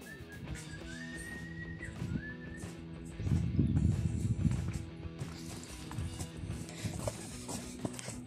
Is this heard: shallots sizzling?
no